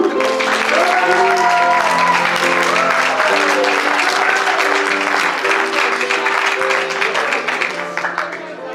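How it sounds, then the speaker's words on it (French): Loud, sustained applause from a crowd fills the room at a school graduation gown and yearbook ceremony, clapping steadily throughout while a voice and music-like tones ride over it before it fades slightly. "On l'applaudit très fort, Marie-Lou!"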